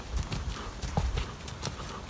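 Horse hooves clip-clop at a steady, even cadence during riding work, each footfall distinct and fairly close, with faint talk in the background.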